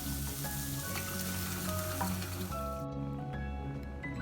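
Steady, close sizzling of garlic sautéing in a hot pan, with occasional stirring clinks, continuous throughout with no talking.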